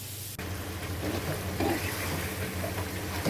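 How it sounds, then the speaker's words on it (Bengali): Garlic cut into large pieces frying alongside chicken necks and liver for a korma, giving a steady, close sizzle with a soft crackle that runs throughout without speech. "রসুন বড় বড় করে কেটে আমি একটু ভুনা করে নিচ্ছি"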